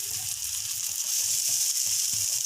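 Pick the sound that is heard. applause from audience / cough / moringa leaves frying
moringa leaves frying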